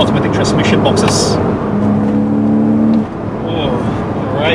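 A Porsche with a PDK dual-clutch gearbox and a rimless exhaust roars up close, pulling hard through rapid gear shifts, with brief dips and surges in the engine note.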